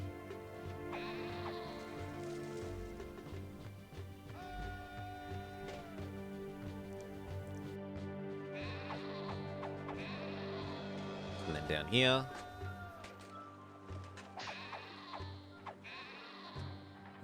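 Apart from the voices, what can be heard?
sheep bleating in video game Caesar 3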